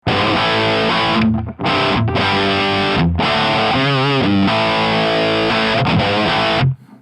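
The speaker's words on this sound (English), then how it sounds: "that sounds like quite a nice, tight, crunchy rhythm tone" A crunchy, distorted electric guitar played through a Line 6 Firehawk FX plays tight rhythm chords, loud and saturated, with brief gaps between the strummed phrases.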